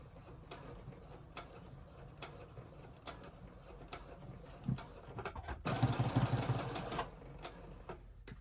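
A sewing machine back stitching a scrub cap, with a quiet rhythmic ticking as the handwheel turns, then a louder, faster burst of whirring stitching near the end, no voice.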